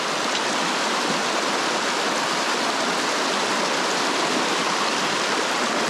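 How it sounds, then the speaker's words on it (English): A fast-flowing river in the Scottish Highlands rushes close by, a loud, dense, steady roar of churning water that fills the whole scene without pause or voices. "Look how quick the river's going."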